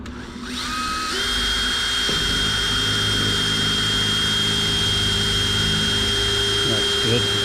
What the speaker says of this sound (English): Where that hole is right over there, drill that the rest of the way through.